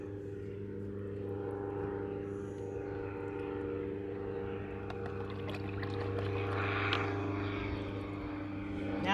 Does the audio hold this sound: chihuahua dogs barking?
no